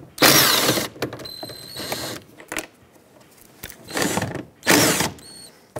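A hand ratchet working 10 mm bolts on the mirror trim of a 2007–2014 Chevrolet Silverado 2500HD, heard as several short bursts of close clicking with quiet pauses between them.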